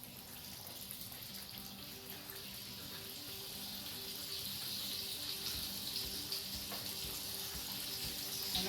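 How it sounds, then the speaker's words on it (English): A steady, bright sizzle of flour-dusted red snapper frying in oil hisses throughout, close and gradually growing a little louder, with faint clatter underneath. "you hear that sizzle, you know the fish is frying."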